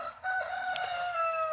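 A rooster crows once, a drawn-out, clear call from fairly close by with no voices around it.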